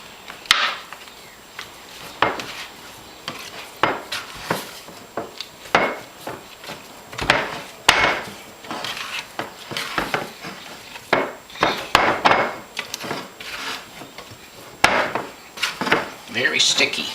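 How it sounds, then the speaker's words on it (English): Bread dough for pain rustique being mixed with yeast in a bowl, a run of irregular wet scrapes, knocks and rubbing strokes against the bowl, fairly close and steady, with no talking. "Mix the yeast in."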